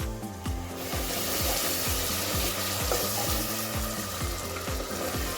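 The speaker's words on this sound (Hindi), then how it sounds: "थोड़ा सा मैं पानी डालती हूँ," Water splashes into a hot pan of darkened frying onions, setting off a loud, continuous sizzle with a steady scraping rhythm of stirring running underneath.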